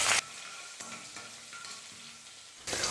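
Chopped onion, green chili, ginger and garlic sizzle and crackle in hot oil as a tempering, a steady close frying hiss with a louder burst as each ingredient drops in, no voices.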